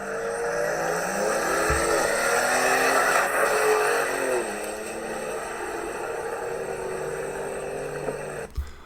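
A 2020 Ford Bronco drag races a Ford Raptor across sand, the engines droning and revving loudly at a distance before the sound drops to a lower, steadier hum partway through.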